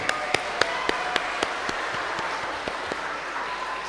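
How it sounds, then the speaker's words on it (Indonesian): Congregation applause for the children at an HKBP Cimanggis Sunday school Christmas celebration: a thick, continuous patter of many hands, with a few sharp individual claps ringing out at a regular beat above the crowd. "mari kita tepuk tangan dulu untuk mereka"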